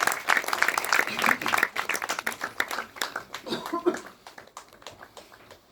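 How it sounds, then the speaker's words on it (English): A book launch audience at the British Council claps for Lord Loomba, a round of applause with distinct individual claps that thins out and fades toward the end, with some voices mixed in. "May I have a round of applause for Lord Loomba"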